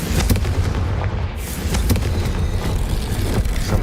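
Confringo fire spell explosion in the Hogwarts Legacy video game, a loud sustained booming blast with crackling bursts and low rumble that carries through the whole short stretch without speech.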